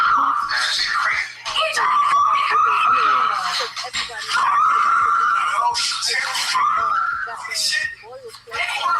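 A person screams loudly and continuously with brief breaks, harsh and close, with a baby nearby and other voices in a chaotic home scene.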